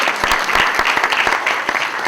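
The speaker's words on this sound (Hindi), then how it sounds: "मैं चाहूंगी एक बार जोरदार तालियां" Audience applause for young music students at a music institute's evening recital, steady dense clapping with sharp individual claps throughout, loud and close.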